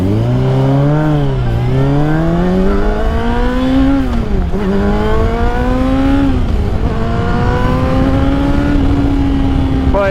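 A loud motorcycle engine revs and shifts through gears while riding on a sunset ride, its pitch climbing steadily, dropping at each shift and climbing again over constant close wind and road roar.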